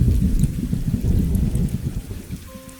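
Heavy rain pours steadily with low storm rumble as a cartoon sound effect, loud and dense throughout and easing slightly at the end, with no voices.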